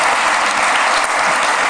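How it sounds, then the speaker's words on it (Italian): A studio audience bursts into loud, dense applause during an interview, steady and close throughout the short burst. "Perché applaudono?"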